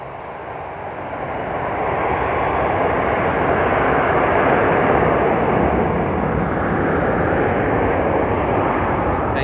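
A night departure of an airliner at Frankfurt Airport, a steady broadband jet engine roar that swells over the first two seconds and holds loud and close throughout, with no talk.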